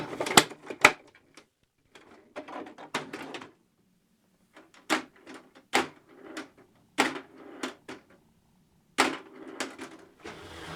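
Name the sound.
plastic battery door snapped on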